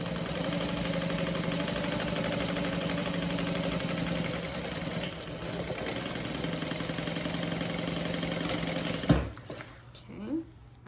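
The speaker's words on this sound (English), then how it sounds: "let's go ahead and sew that at a 1/2 inch seam allowance" A sewing machine runs in a steady, fast stitching whir while sewing a half-inch seam on a handbag, close and continuous for about nine seconds before stopping abruptly, followed by faint handling sounds.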